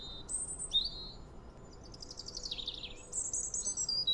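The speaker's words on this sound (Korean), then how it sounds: "아래쪽에 보시면 요거는 새소리예요" A recording of birdsong is played back, with a small bird repeating bright, high chirps and trilled whistles in short bursts, separated by brief pauses, fairly faint over a quiet background hiss.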